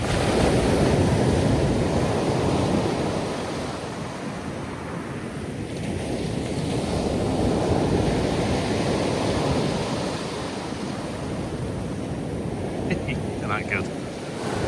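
Sea waves break and wash onto the shore at Dunwich, Suffolk, a steady loud surf roar swelling and easing with some wind buffeting the microphone; a person speaks briefly near the end.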